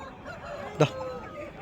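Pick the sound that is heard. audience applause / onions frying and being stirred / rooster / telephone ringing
rooster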